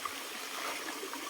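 A river stream in the countryside, where people go to bathe in very cold water, flows with a steady broadband rush and trickle, moderately faint and continuous, with no voices.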